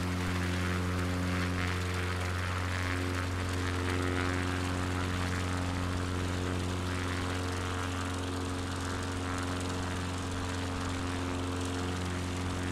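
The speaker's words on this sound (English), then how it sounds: "Now we're getting ready for a landing." Steady, droning engine and propeller hum of a light aircraft heard from inside the cabin on a coastal flight over Middlesbrough and Stockton, continuous and loud as it prepares to land.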